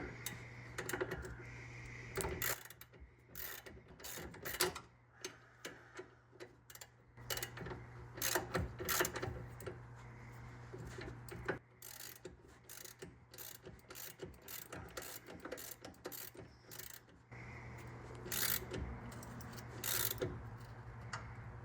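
A ratchet clicks in quick bursts while tightening the strut bolts on a 2007-2018 Chevrolet Silverado front lift, with short pauses between runs of close, crisp clicks over a faint background hum.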